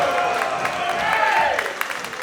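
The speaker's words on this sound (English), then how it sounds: "Artemis Spencer getting the crowd fired up." A wrestling video game crowd roars and cheers steadily, a broad wash of cheering with scattered claps, held at a fairly even level while a commentator's voice talks over it.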